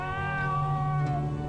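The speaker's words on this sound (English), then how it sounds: "Pat the kitty." A video game cat meows after being petted, one drawn-out, tonal meow that stays close and clear for the full moment, with no other voices alongside it.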